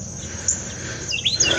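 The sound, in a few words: Carolina Wren singing in backyard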